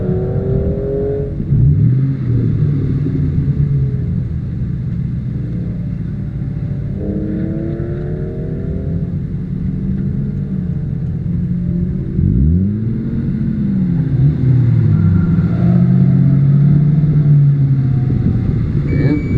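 A gray Ford Mustang launches in an SCCA Pro Solo autocross in Blytheville, Arkansas, its engine revving and rising in repeated loud bursts with gear-change sweeps over a rumbling background.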